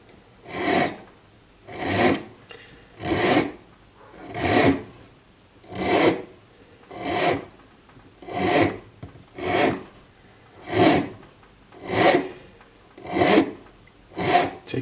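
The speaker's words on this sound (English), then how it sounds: "you can start filing with a barrette needle file" Barrette needle file rasping across a scalloped metal spacer for a dagger, in about a dozen steady, evenly spaced strokes, close and loud with no voices.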